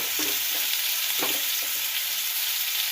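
Radish and rice stir-fried in a hot pan tempered with panch phoron, giving a steady close sizzle with a few scraping stirs from a spatula.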